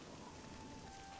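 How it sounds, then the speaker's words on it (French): Rainfall in the video game Oblivion, a faint, even patter of rain that holds steady throughout with no voices and no clear thunder. "Oh, mais il pleut encore."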